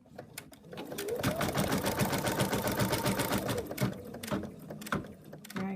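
Embroidery machine stitching a leg placement line on an appliqué teddy, a rapid close mechanical rattle of needle strokes running steadily for several seconds before slowing and stopping.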